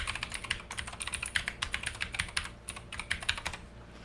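Rapid keystrokes on a computer keyboard, an irregular run of close, crisp clicks lasting a few seconds over a faint background hum, with no talking.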